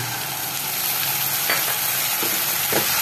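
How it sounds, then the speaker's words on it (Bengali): Ginger garlic paste frying with onions in a pan, a steady close sizzle with occasional stirring scrapes, no voices. "আদা রসুন বাটা এখানে দিয়েছিলাম, সেটা আমি ফ্রাই করছি"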